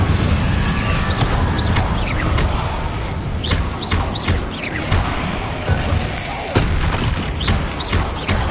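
Incendio fire spell cast in Hogwarts Legacy, a burst of booming, crashing impacts within dense, continuous game sound that stays loud across the whole stretch.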